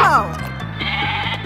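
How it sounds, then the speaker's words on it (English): Loud bleating from a goat up close, a wavering nasal cry held for over a second against a steady low rhythmic backing. "Goats."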